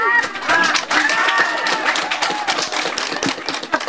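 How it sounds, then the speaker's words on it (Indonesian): Applause from the audience at a village head candidate debate, a dense patter of clapping filling the room throughout, with faint voices mixed in. "Tepuk tangan."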